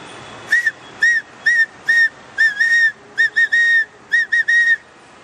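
A whistle is blown through an empty nut shell in a quick series of short and longer shrill, bright notes with slight pitch changes, heard close against a quiet background.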